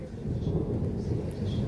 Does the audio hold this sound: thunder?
yes